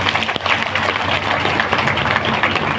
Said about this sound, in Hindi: आप अपने लिए तालियां बजाएं